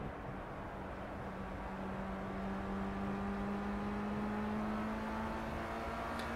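Formula Rookie race car engine in a Silverstone Grand Prix race video game, a steady low drone with a sustained rising tone as the car holds speed, continuous and fairly quiet with no talk.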